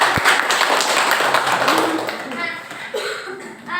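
A classroom of students claps hands together, a dense, close patter of many claps that tapers off with light voices and chatter near the end.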